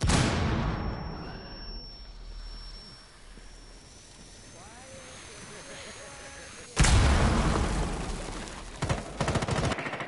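Grenade explosion in the Rainbow Six video game, a sudden loud blast partway through, preceded by quieter game noise and followed by further sharp bangs.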